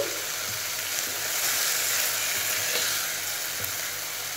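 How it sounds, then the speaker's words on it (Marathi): Fenugreek leaves fry in oil in a pan, producing a loud, continuous sizzle that swells slightly midway and carries on without speech. "मेथी थोडीशी शिजवून घ्यायची तेलावरती छान परतल्या गेली की शिजल्या जाते"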